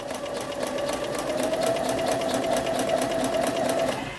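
A sewing machine understitches with an edgestitch foot, a close, rapid, even needle chatter with a steady motor whine running for several seconds before slowing to a stop.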